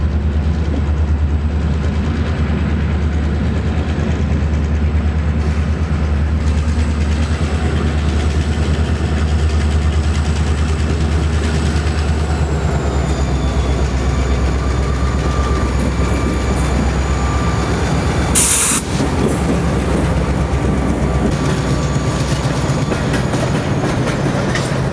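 A diesel locomotive, a CN SW1500 switcher working in a rail yard, rumbles and idles continuously at close range, a heavy engine drone with faint squeals and a brief metallic clank partway through.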